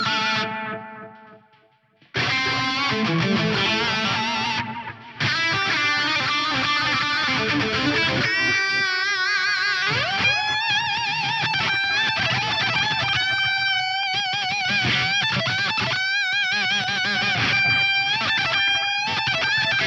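An electric guitar lead runs through a Strymon Brig delay pedal set to 3005 mode, with a wet setting and light modulation: sustained, distorted notes and bends trail off into repeating echoes after a brief quiet opening.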